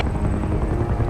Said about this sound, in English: Hearing a helicopter approaches